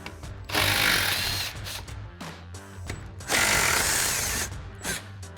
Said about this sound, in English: So we'll grab our 15 mil socket on our impact and remove the 6 bolts holding it on.